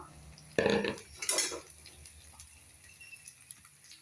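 Puffed rice and savoury mixture tossed together in a pan, with two close bursts of rustling and utensil clatter followed by faint scattered clicks.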